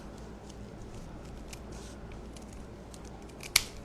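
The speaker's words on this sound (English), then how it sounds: "And I'm just going to cut right where I cut on the other one." Scissors snip through paper being cut into triangles for paper roses, a soft papery rustle of cutting ending in one sharp, close blade snap.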